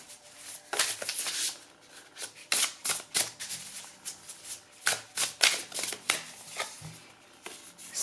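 Tarot cards are shuffled by hand in a series of quick riffling bursts and soft slaps, close and fairly loud, with brief pauses between shuffles and no talking.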